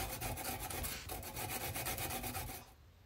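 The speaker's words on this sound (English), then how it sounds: "using some Abranet cloth, I go along my filed surface to remove any burrs from the edges." Abranet abrasive cloth rubbed along the filed edges of a copper gasket for a Kawasaki Z1 engine, giving steady rasping back-and-forth strokes at close range that stop near the end.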